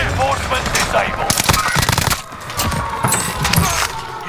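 Gunfire in an online shooter video game, rapid machine-gun bursts crackling loud and near, mixed with other game sounds and voices talking.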